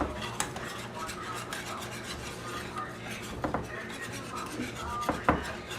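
A whisk or fork scrapes and taps against a mixing bowl while peach cobbler batter is stirred, quiet and close, with irregular clinks and rubbing strokes under a low background hum.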